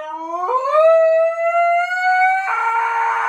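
A dog lets out one loud, close, sustained howl that rises slightly in pitch and shifts tone near the end, with no barking or talk around it.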